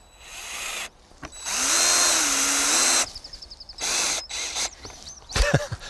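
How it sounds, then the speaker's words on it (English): A power drill drives a screw into wood while a raised planter is built: a long steady whine that rises in pitch, then shorter stop-start bursts, loud and close. "So I could just get a screw and put it in the middle, which is there, in the middle of the middle, and start screwing it in."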